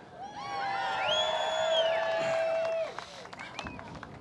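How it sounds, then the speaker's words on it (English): Crowd at a 2009 tax cut rally cheering and whooping loudly with scattered clapping, swelling in the middle and fading after about three seconds. "What a day and what a crowd."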